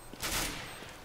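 An AWP sniper rifle in the game CS:GO fires a single sharp, loud crack that decays quickly in a short burst.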